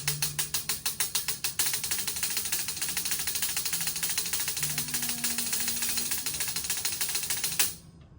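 A drum played as a rapid double stroke roll, with crisp evenly spaced hits that start slightly spaced and then blur into a dense, continuous buzz before stopping abruptly; faint voices murmur underneath.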